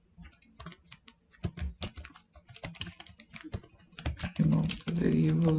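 Fingers type a code comment on a computer keyboard, quick irregular bursts of clicking keystrokes close by, joined toward the end by someone talking.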